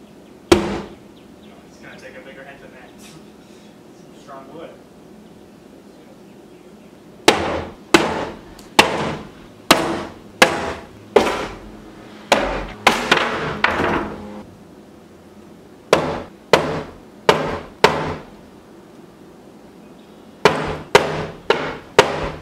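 A TV stand is hammered and smashed apart in a series of loud, sharp impacts and cracking bangs, coming in quick bursts separated by pauses, with faint quieter handling noises at the start.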